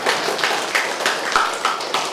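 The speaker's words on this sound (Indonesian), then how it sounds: "Ini tepuk tangan buat Romo Petrus dulu dong." Audience in a church parish hall applauding for Father Petrus, steady clapping from a crowd that fills the whole moment, close and moderately loud with no talk over it.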